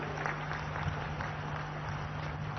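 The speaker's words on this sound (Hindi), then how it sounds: "एक बार हाथ उठाकर जोर से ताली बजाइए भाइयों बहनों" A large outdoor crowd applauds in honour of 55,000 participants at a Bastar culture gathering, a steady unbroken wash of clapping with a low electrical hum beneath it.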